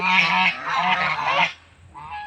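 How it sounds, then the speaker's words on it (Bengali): Large domestic geese in a village give a few loud, close honking calls in quick succession, then a shorter honk after a brief pause. "এটাকে রাজাহাঁস বলে গ্রামে"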